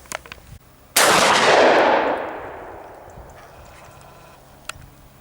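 A single loud rifle shot fired at a sighting-in session at a shooting range, a sharp crack followed by a long decaying echo, with a faint click near the end.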